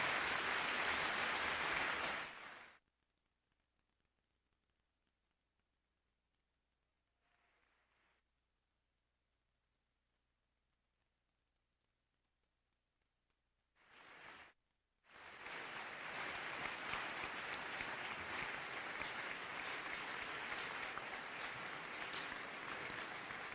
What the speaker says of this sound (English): we've given a hearty applause to Father Greg